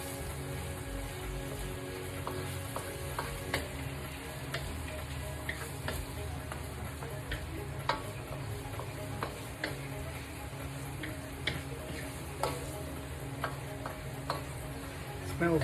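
Tofu and vegan chicken sizzling in a pan, a steady faint frying hiss with scattered light ticks and clinks of a utensil stirring, fairly quiet and without speech.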